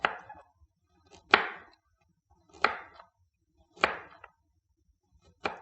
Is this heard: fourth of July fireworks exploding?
no